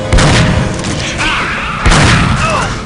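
Shotgun blasts in the sci-fi shooter Aliens vs Predator 2, two loud booming shots about 1.7 seconds apart, each with a sharp attack and rumbling tail, over game ambience.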